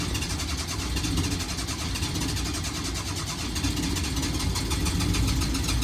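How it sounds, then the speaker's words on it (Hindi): A generator engine runs loud and steady throughout, a dense mechanical drone that barely changes in level, with no voices over it. "जनरेटर स्टार्ट हो गया।"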